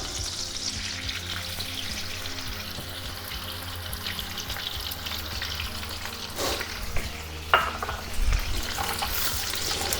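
Butter melts in a hot pan with a steady, soft sizzle and crackle, and a few louder scrapes and clinks near the end.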